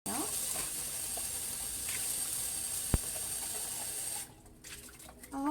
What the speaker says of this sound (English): I always like to rinse out my cans